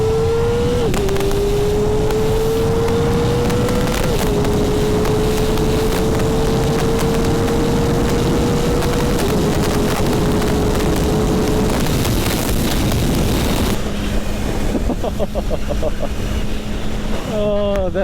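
Kawasaki Ninja ZX-4RR with a tuned ECU pulling hard in first gear onto a highway, a loud high-revving engine whine climbing steadily with wind rush, then a shift to a lower steady drone near the end.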